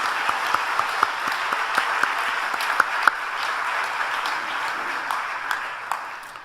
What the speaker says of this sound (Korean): 감사와 영광의 박수를 돌리겠습니다.